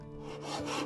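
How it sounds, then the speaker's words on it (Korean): Filing and sanding a metal fitting for a traditional Korean jangdo knife, a steady close abrasive rasping that grows slightly louder toward the end, with no talk. "줄과 사포로 정리합니다."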